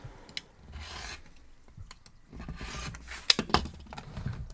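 Rotary cutter or blade trimming the sides of a fabric quilt block on a cutting mat, close-up rasping and rubbing strokes with a few sharper clicks near the end.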